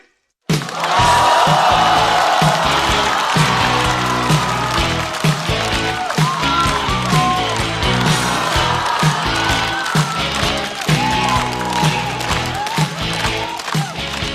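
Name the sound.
audience applause and cheering at a comedy show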